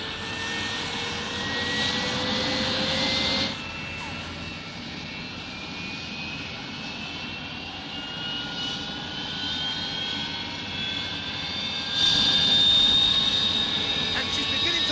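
Main engines of a 100-passenger vertical take-off airliner run up on a test flight, a loud, steady jet roar with rising whining tones that swells sharply near the end.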